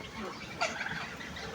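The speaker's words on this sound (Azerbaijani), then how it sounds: "Bu da hinduşkalarımdır." Farmyard turkeys let out a brief gobble over steady outdoor background noise, fairly close but not loud, with no talk.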